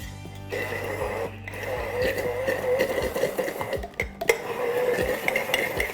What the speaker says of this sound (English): Now what we want to do is start to break it down using this immersion blender.